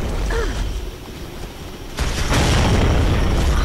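A grenade explodes in the Gears of War 3 video game during a ranked team deathmatch, a loud broadband boom that swells and holds as a thick rumbling roar, following a quieter stretch of game ambience.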